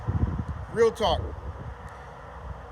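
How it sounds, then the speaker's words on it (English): Wind buffets the microphone in a low steady rumble while a person speaks briefly over it. "Sorry about the wind."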